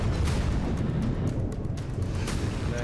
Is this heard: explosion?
yes